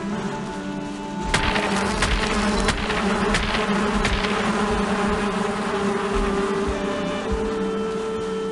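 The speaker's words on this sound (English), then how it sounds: "Bees!" Bees swarm in the Valheim survival game. After a brief quieter lead-in, a loud, dense buzzing starts and carries on steadily to the end, close and constant, with no talking.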